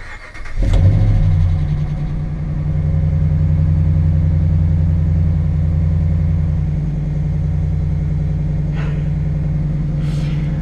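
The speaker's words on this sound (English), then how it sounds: "So let's hear how the engine sounds now." A car engine with a Flowmaster exhaust starts and then settles into a steady, loud, deep idle, close by, with a low droning rumble that holds for several seconds.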